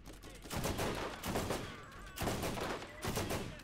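Bursts of rapid gunfire from the video game Borderlands, loud repeated volleys in roughly second-long rattles with brief gaps between them.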